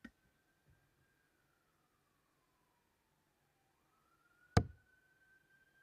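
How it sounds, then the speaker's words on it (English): An ambulance siren passes at a distance, a faint steady wail that slides lower in pitch and then rises back. A single sharp knock cuts in near the end. "And right on cue, the ambulance goes past."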